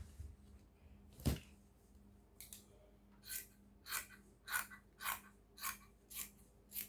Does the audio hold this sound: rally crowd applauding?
no